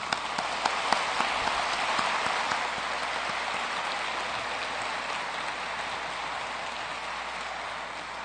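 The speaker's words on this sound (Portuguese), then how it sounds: "com uma salva de palmas" Sustained applause from a large audience at a tribute to architect Oscar Niemeyer during an industry conference debate, a dense, steady wash of clapping lasting throughout, with a few sharper claps near the start.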